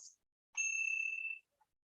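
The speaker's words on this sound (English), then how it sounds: "After many of the meditations, I will wake you with these bells." A soft meditation bell rings once, a clear sustained tone that rings out for nearly a second before fading into silence, with a faint earlier chime just before it.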